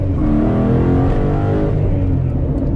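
2021 Ford Bronco engine revving hard under acceleration, a loud, sustained close-up roar with rising harmonic pitch filling the whole stretch, no talk over it.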